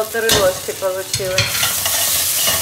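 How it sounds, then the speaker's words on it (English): Tomato paste fries with beef in a pan while a spoon stirs it, giving loud scraping strokes over a continuous sizzle, several stirs in quick succession. "Give that a good stir."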